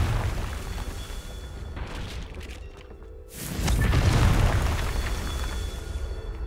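A Confringo blasting curse explodes in a Harry Potter video game: a loud, sustained rumbling roar that dips briefly, then swells into a heavier booming burst that lingers, with no talk.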